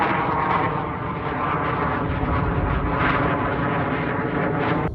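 A fixed-wing airplane drones steadily overhead, loud and continuous, above a calm remote mangrove island in the lower Keys at sunrise, with no talking.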